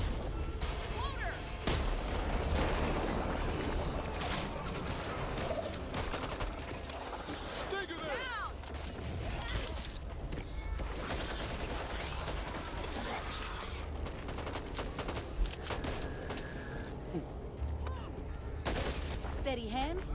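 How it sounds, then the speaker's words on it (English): Booming slug blasts from a shotgun in Back 4 Blood ring out among a continuous clatter of in-game gunfire and chaos, while players talk throughout. "So my shotgun is basically firing slugs."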